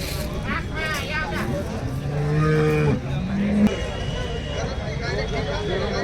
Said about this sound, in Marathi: चाळीसगावचा हा गाय बाजार आहे